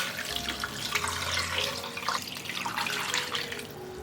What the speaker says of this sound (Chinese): 最后加入适量清水